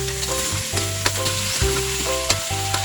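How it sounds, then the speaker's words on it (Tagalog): Onion, garlic and chicken sauté in a hot pan, giving a steady close sizzle with a few sharp stirring clicks. "Igisa lang po natin ang sibuyas, bawang. Then sunod na natin ang ating chicken."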